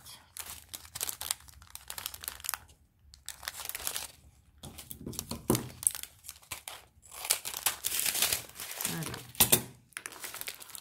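Small plastic packets of diamond painting drills are torn open and crinkled by hand, giving bursts of rustling and tearing with pauses in between, close and fairly quiet, while someone talks intermittently.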